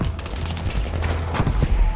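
Heavy gunfire in the World War II shooter Battlefield 5, a dense battlefield fusillade of overlapping shots and distant booms rolling on steadily for two seconds, with faint voices underneath.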